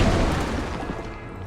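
A grenade blast in the video game XCOM 2, a loud, dense, rumbling boom that fills the sound fully and slowly fades over a second and a half, with no voices.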